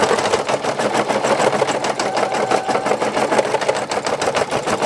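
A home embroidery machine stitching out a couples portrait design, with a steady, dense, rapid mechanical chatter of needle strokes running close and continuous throughout.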